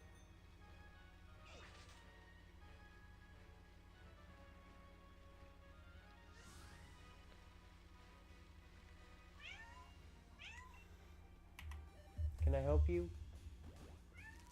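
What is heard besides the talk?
cat meowing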